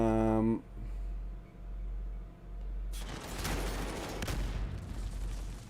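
Rapid gunfire bursts from a Call of Duty Modern Warfare scrim match erupt midway as dense, loud volleys following a low droning hum and a brief tonal sound, continuing steadily to the end.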